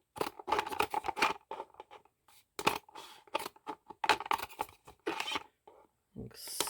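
Scissors snip through recycled plastic to make garden plant tags, giving a run of short, close, crisp cuts in quick bursts with brief pauses between them. There is no talking.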